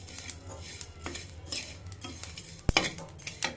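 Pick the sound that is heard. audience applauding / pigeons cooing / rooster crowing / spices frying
spices frying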